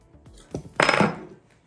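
Seasoned quinoa with cider vinegar, sushi sauce, honey and salt stirred in a bowl, giving a close cluster of utensil clinks and scrapes against the dish, with a louder scraping burst midway.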